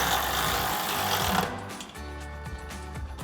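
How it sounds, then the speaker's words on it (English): A 13mm socket on a ratchet tightening the side bolt of a bumper bracket on a 2021-2023 Ford F-150 Barricade Extreme HD front bumper: a rough noise gives way to rapid, regular metallic ratchet clicks, close and alone. "we can grab a 13mm socket to tighten down our side bolt"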